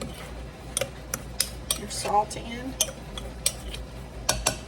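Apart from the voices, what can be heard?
spoon stirring salt into cornmeal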